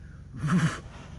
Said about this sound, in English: That noise is how a tiger says hello.